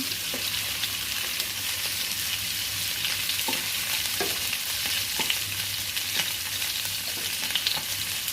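Chicken frying in butter in a pan for a stew, a continuous close sizzle with occasional soft clinks and stirring taps.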